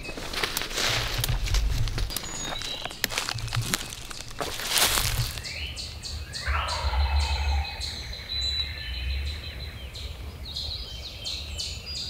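A wild turkey longbeard gobbles on a hardwood ridge in hill country at sunrise, the calls coming from some distance over open woods, with songbirds chirping and a steady outdoor background.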